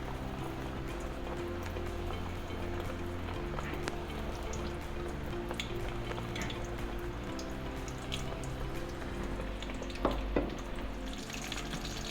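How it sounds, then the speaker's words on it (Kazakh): Nuggets frying in hot oil, a steady dense sizzle and crackle running the whole time, close up, with a few brighter pops near the end. "Осылайша қуырып аламыз."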